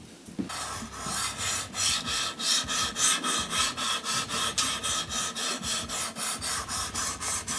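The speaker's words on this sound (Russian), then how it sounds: "Теперь мы начинаем заточечку." A blade is drawn steadily back and forth across a whetstone on a guided knife sharpener set to about 15 degrees, making a rhythmic rasping scrape that repeats evenly, close and fairly loud.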